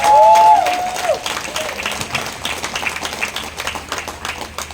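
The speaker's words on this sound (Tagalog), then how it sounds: "Grabe po yung palakpak niyo sa Panginoon." Church congregation clapping together for the Lord, a burst of applause that tapers off over a few seconds with a voice briefly heard at the start.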